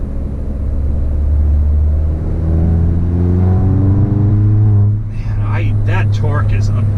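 A car with a stage 1 DSG tune accelerates hard, engine note climbing steadily in pitch for about five seconds before an upshift drops the revs, with a person talking over the close, loud interior drone.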